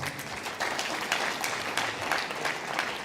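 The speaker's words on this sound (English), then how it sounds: "A round of applause." Steady applause from an academic audience honouring a professor, continuous moderate clapping throughout the few seconds with no voices on top.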